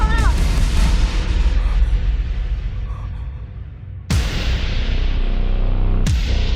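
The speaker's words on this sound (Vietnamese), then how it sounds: "Vừa nãy súng đã nổ" Two loud, sharp gunshot bangs about two seconds apart ring out over a low rumbling background with faint voices.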